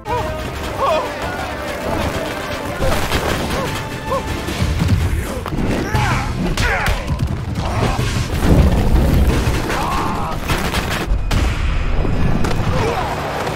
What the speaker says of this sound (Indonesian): ditambah warga desa melempari petasan karena saat ini mereka sudah tidak takut dengan Nian